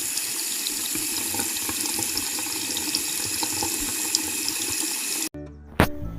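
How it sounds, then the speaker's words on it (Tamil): Tap water runs steadily into a sink while frozen chicken is washed with turmeric, a loud continuous splashing stream that stops abruptly near the end, followed by a brief clatter. "நான் ஃப்ரோசன் சிக்கன் எடுத்தனால மஞ்சள் தூளை போட்டு நல்லா அதில் கழுவி நல்லா மிக்ஸ் பண்ணி கழுவ"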